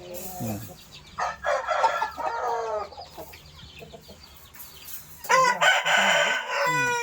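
Several roosters crow one after another at close range on a poultry farm holding hens and chicks, with clucking between the loud, drawn-out calls.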